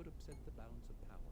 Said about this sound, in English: If you hear clinking in the background, don't mind me.